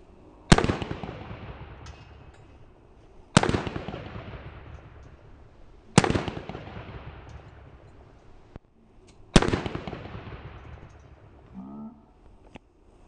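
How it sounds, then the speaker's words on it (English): An AK rifle fires at level 4 body armor, with four loud, sharp gunshots spaced a few seconds apart, each ringing out in a long echoing decay outdoors. "I just did 7 shots with my AK."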